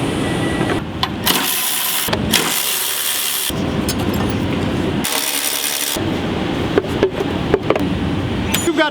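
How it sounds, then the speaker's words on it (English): A Toyota Sienna starter motor whirs but fails to engage the flywheel, heard as several loud, harsh cranking bursts separated by short gaps. "The starter winding is winding up, but it's not engaging that flywheel."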